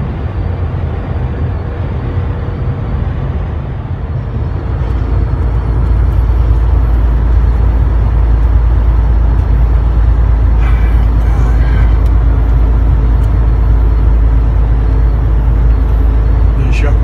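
A truck drives along a road with a loud, constant engine drone and road rumble from inside the cab, thickening after a few seconds, with a faint high whine and brief hiss over the top.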